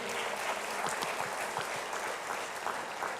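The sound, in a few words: audience applause at a town hall meeting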